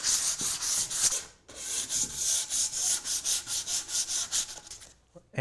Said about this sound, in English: just using some 180 grit sandpaper, I'm going to relieve the edges